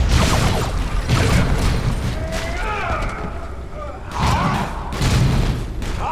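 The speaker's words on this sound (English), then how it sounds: "Use a grenade." Booming grenade blasts in a Warhammer 40,000: Dawn of War 2 battle on a hive world, several heavy thuds spaced across the clip amid combat noise and voices talking.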